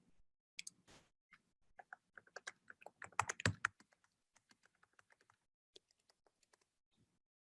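Typing on a computer keyboard, a quick irregular run of close key clicks with brief pauses, the clatter thinning to scattered single taps toward the end, no voices.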